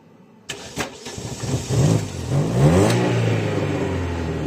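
A car engine starts on a frosty morning, coughing to life after a few sharp turnover bursts and then revving unevenly before settling into a steady, close, loud run.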